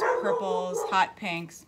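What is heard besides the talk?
dog barking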